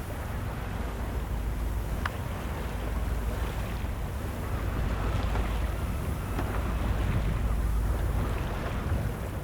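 A sailboat moves through protected waters at about 4.5 knots, giving a steady broadband rush of water and wind noise across the microphone, continuous and fairly even throughout.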